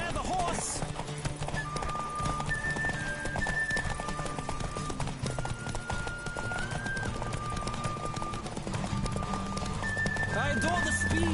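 Hooves of a galloping horse in The Witcher drum in a fast, even rhythm up close, with brief whinnies on top and a voice talking over them throughout.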